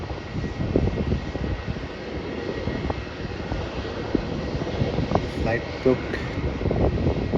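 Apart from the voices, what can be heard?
Jetstar Airbus A320 landing at Melbourne Airport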